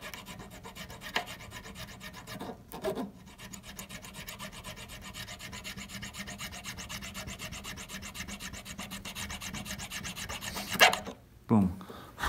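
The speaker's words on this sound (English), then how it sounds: "Now I'm filing at a slight angle." A file rasps back and forth in the slot of a guitar nut during a setup, a steady close scraping that runs almost continuously, broken by short pauses and a sharper scrape near the end.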